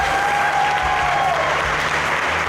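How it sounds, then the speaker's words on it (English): An audience at a bass fishing championship show applauds, a dense, steady burst of clapping heard close and loud throughout. "Big round of applause for Rusty Clark and Corey Rambo."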